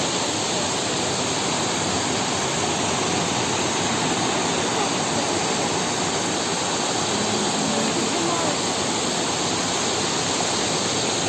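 A river rushes steadily close by, a dense, unbroken roar of water that fills the whole stretch alone with no voices over it.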